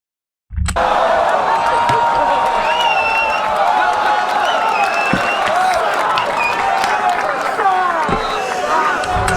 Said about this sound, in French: Ce qui m'étonne, c'est que ça applaudit, genre ça siffle carrément